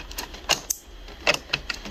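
A Brother MFC-J4535DW inkjet printer gives a handful of sharp, irregular mechanical clicks and ticks, fairly faint and close, with no talking.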